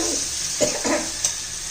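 Green chilli thecha frying in a pan, a steady bright sizzle with a few soft stirring scrapes rising and falling over it.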